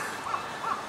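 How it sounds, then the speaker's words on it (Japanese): A crow cawing in Osaka Castle Park in autumn, two short harsh calls about a third of a second apart, fairly distant and clear against steady outdoor background noise. "カラス鳴いてるね"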